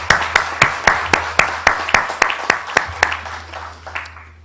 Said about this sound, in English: I would like to give you applause for the panel here,